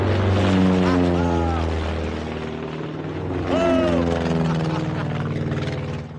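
An early aircraft engine drones steadily throughout, a loud, continuous propeller hum with shifting tones, while people exclaim and talk over it.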